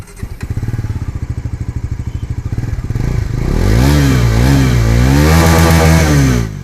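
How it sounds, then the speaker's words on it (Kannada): A Bajaj Pulsar NS 400Z motorcycle, a 2024 model with a 400 cc engine, idles with a rapid lumpy thump, then is revved hard into a loud, sustained roar that rises and falls in pitch before cutting off, close up and alone. "ಈ ಬೈಕ್ ಬಂದು ಬಜಾಜ್ ಪಲ್ಸರ್ NS 400Z ಅಂತ ಹೇಳಿ."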